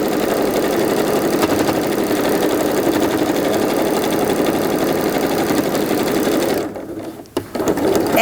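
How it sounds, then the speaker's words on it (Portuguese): A sewing machine runs continuously and close by, its rapid stitching joining backpack parts together, then slows and stops near the end with a few clicks. "E faço uma costura prendendo as partes."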